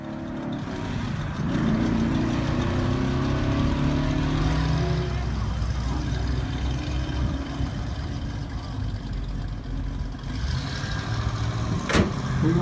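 Classic cars pulling out of a cruise-in at a restaurant lot, engines idling and rumbling past at moderate distance with steady outdoor background noise and a brief sharp knock near the end.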